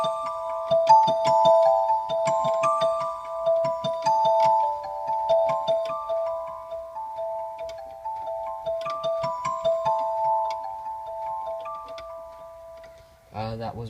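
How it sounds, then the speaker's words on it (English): A Yamaha PSR-275 keyboard plays a bright, bell-like celesta voice, picking out a chiming tune of struck tones that ring and decay cleanly, ending with a brief sound at the close. "One thing that I really like using this one is the celesta sound."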